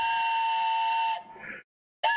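Steam-style train whistle in the kart racing video game Nickelodeon Kart Racers 2, one long steady loud blast, then a short hissing tail, silence, and the start of another blast.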